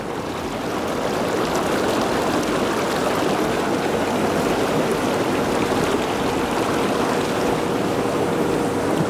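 An Intex PureSpa 28462 inflatable jacuzzi runs its bubble and massage jets, giving a loud, continuous rushing and bubbling of churning water that stays even from start to end, with no voices.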